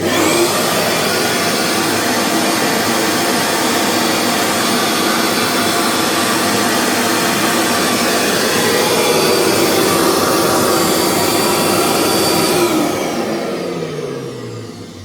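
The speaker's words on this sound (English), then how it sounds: "for 90 quid, not a bad little extractor" A DC23 dust extractor roars at a steady, loud, whining drone, then spins down and fades as it switches off near the end.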